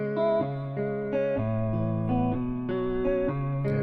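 Distorted electric guitar playing a slow sequence of sustained chords and notes, one after another, alone and fairly loud.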